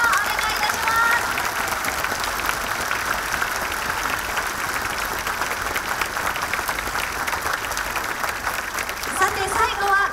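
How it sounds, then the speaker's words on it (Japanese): Sustained applause from a large crowd at a Kawasaki Frontale fan appreciation day held in a stadium, an even wash of clapping lasting the whole stretch with a voice over a loudspeaker above it. "皆さん今一度大きな拍手をお願いいたします"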